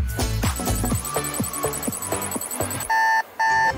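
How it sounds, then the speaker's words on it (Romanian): An alarm clock rings loudly in a bedroom at night, two steady electronic beeping bursts near the end following a cartoon-style music passage. "oprească cineva alarma aia?"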